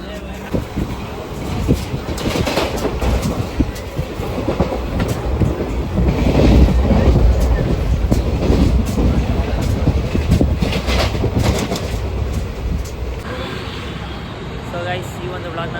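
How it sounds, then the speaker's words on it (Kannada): Train running after boarding at a railway station, a steady loud rumble with rhythmic rail clatter throughout, while people talk over it. "ಗೈಸ್ ಇವಾಗ ರೈಲ್ವೆ ಸ್ಟೇಷನ್ಗೆ ಬಂದು ಟ್ರೈನ್ ಹತ್ತುತ್ತಾ ಇದ್ದೀವಿ."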